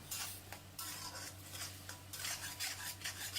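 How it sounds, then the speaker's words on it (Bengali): A spoon scraping and stirring masala for soybean kofta in a pan over a medium gas flame, in repeated bursts of scraping over a soft sizzle and a steady low hum. "গ্যাসের ফ্লেমটা মিডিয়াম করে সমস্ত মশলাগুলোকে ভালো করে কষিয়ে নেব।"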